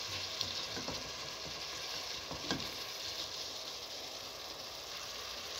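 Pasta with zucchini sizzling in a pan while being stirred, a steady frying hiss broken by a few soft scraping strokes, close and fairly quiet with no voices.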